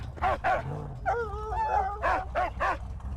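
A dog in the Mad Max video game gives short yips and barks, then a drawn-out whimpering whine, and then more barks. The sounds are close and loud over a low rumbling game background.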